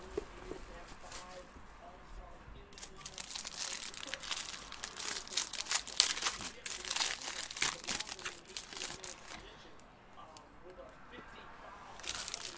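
Crinkling and tearing of the wrapper as a box of 2016-17 Panini Black Gold soccer cards is opened, steady close rustling and crunching for several seconds, softer near the end.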